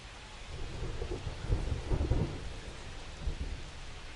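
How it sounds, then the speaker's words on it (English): Steady rain pours throughout a baseball game in the video game MLB The Show 25, with low thunder rumbling beneath it and swelling near the middle before easing back into the constant downpour. "This rain is not letting up."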